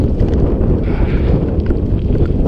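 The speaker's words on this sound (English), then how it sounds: "I'm fighting against the wind big time right now" Wind roaring into the microphone while riding a Xiaomi M365 Pro electric scooter off-road at a racecourse, a loud, continuous low buffeting rumble with no speech.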